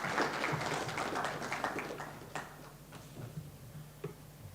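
Audience at a CyberWeek Africa event applauding a speaker: dense, loud clapping from many hands that gradually thins and fades toward the end, with no talking over it.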